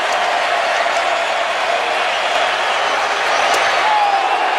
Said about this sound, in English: this crowd has been awesome all night